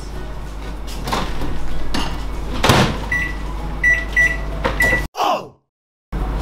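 A microwave oven heats cheese on beef bowl ingredients, humming steadily before a series of high electronic beeps and clunking door sounds, then a short silence.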